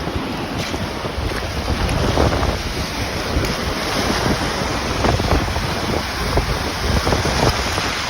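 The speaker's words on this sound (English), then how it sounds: "That's a big wave too." Big ocean waves roll in and break on a rocky beach during a rock-hunting trip, a loud continuous roar of surf with wind buffeting the microphone and no talk.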